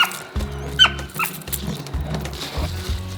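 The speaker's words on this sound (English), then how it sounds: "Can you tell my dog is not happy with not being allowed in the garden with me right now?" A dog whines and whimpers in short, unhappy yelps while shut out of a vegetable garden, the cries rising and falling repeatedly at close range with no talk over them.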